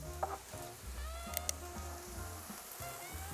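Cauliflower rice stir-fries with garlic in a pan, a quiet sizzle with faint scraping stirs and a few sharp clinks of a utensil against the pan.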